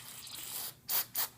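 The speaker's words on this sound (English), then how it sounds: "We'll spray that right there." Two quick hissing sprays of cleaner hit a stained Coach purse up close, each a short sharp burst after a brief rubbing sound.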